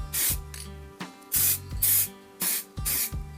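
Satin-finish spray paint hisses onto a Honda VF750F motorcycle engine in six or seven short, loud bursts, with quiet pauses between them.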